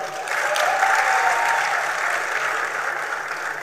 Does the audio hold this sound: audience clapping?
yes